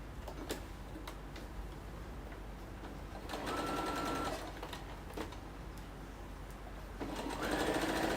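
A sewing machine stitches stretchy fabric for a roll-up bag, its steady mechanical whir running continuously and rising into two louder, faster bursts of stitching, with no talk over it.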